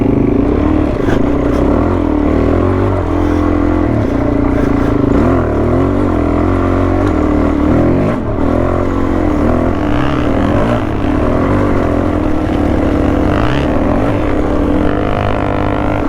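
An adventure motorcycle riding a track with logs and lantana, its engine droning loud and steady throughout, the pitch rising and falling with throttle changes, close up with constant wind rush.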